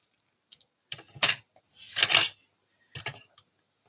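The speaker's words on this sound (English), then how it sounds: "So I'm going to banner cut the edge" A paper card being cut at one end to form a banner shape, a few sharp close snips and short scraping crunches spaced across a few seconds, alone with no talk.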